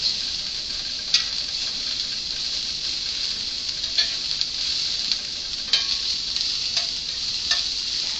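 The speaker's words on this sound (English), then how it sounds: "stirring occasionally until softened and translucent" Onions sizzling in a hot pan for tacos, a dense continuous fry hiss with occasional soft clicks of a utensil stirring through them, steady and close.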